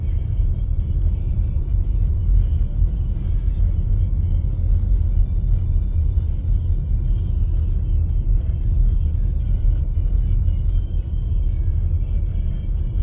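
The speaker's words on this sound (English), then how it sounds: "Just driving around on my day off." A car driving along a road near the La Sal Mountains, heard from inside as a continuous low rumble of engine and tire noise, steady and fairly loud with no talk.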